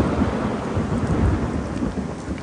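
Heavy rain pours down at night with deep rolling thunder, a dense, loud, continuous roar with low booming swells and no voices.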